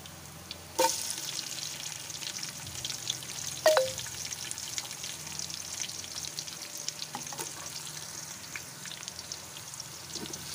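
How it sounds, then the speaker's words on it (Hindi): Onions frying in a pan with garlic and ginger paste, a steady soft sizzle throughout with a couple of sharp clatters near the start, moderately close and without any talk. "अब मैं इसमें प्याज डालूंगी"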